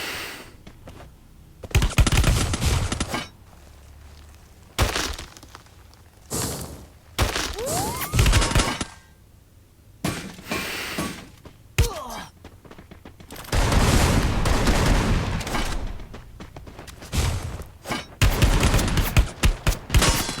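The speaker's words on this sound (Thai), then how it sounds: "มันเอาปืนอะไรยิงกูวะเนี่ย" Bursts of video game gunfire, loud and close, arrive in several separate clusters across the stretch with quieter gaps between, while someone talks intermittently over the shooting.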